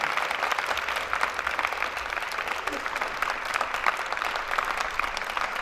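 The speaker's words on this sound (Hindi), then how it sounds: "उनके लिए भी तालियां जनाब है।" Audience applause at a welcome party for junior and senior students in a university commerce department, steady dense clapping from a crowd throughout, loud and sustained with a faint murmur of voices underneath.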